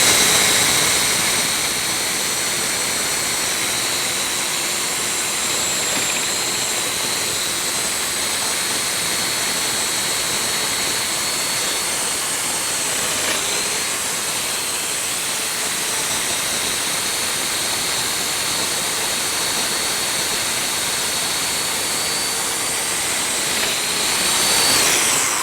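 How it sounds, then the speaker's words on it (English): A SawStop table saw cuts small mortises into a wooden board for the right-hand side of a bathroom vanity panel, a steady loud whine and hiss running unbroken for the whole span, with no talking. "I'm cutting the small mortises because this is the right-hand side of the panel"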